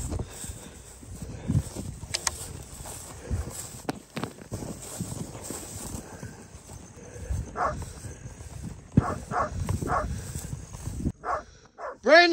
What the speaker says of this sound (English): more barking going on up over the top here